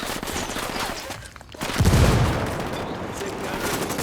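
Gunfire in the video game Ghost Recon Wildlands: loud rapid bursts of shots crackle continuously, swelling into a heavier volley partway through, with faint voices mixed in.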